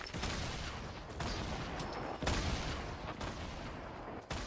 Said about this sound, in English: Oh my, sniped his ass with a pistol.